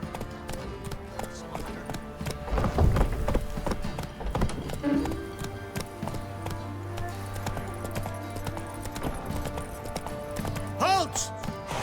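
Horse hooves clip-clopping at a steady trot in The Witcher 3, a continuous rhythmic patter running under game music and character voices.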